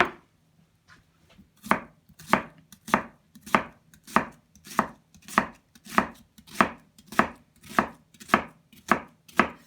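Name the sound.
knife chopping an onion on a cutting board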